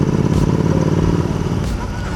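A Royal Enfield GT 650 motorcycle fitted with a swapped aftermarket exhaust and no dB killer, rumbling loud and close with a deep, steady throb throughout.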